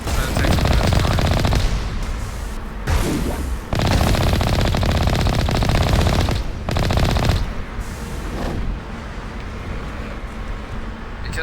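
Sustained automatic gunfire from Mass Effect 1 Remastered gameplay rattles loud and close in long bursts, broken by a few brief pauses, with dense continuous shots filling nearly the whole stretch.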